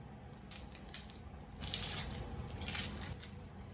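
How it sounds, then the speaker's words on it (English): Dry papery onion skin being peeled away by hand, a soft crackling and tearing close up, faint and with no talking. "you can kind of just like peel the onion first"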